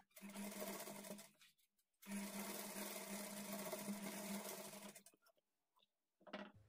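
Sewing machine stitching a blouse lining, a steady close whirring run of about a second and a half, a short pause, a longer run of about three seconds, then a brief final burst.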